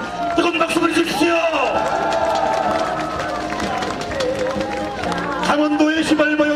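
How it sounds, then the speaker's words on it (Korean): Crowd applause and cheering for a campaign rally speech in Donghae, Gangwon, continuous and loud throughout, mixed with crowd hubbub and tonal music or chanting. "여러분 뜨거운 박수 보내주십시오"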